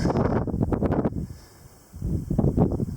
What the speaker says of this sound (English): Here's a little bit of a taste of how windy it is.